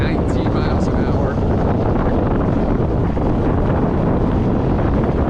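Heavy wind buffeting the microphone while an Ariel Rider X Class e-bike runs at full throttle around 19 mph, a loud continuous roar that fills the whole stretch.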